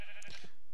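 Sheep bleating in Minecraft, a short synthetic bleat of under a second, fairly close and clear with no other sound around it.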